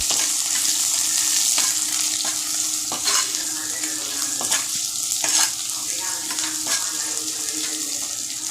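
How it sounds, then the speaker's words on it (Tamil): Ground onion sautéing for an amaranth stem stir-fry, a close, busy frying sizzle broken by repeated spatula scrapes and stirring knocks against the pan, with no talk. "ஒன்றரை வெங்காயம் தண்டு பொரியலுக்கு இன்னும் நல்லா வதக்க வதக்க வதக்கிக்குவோம்"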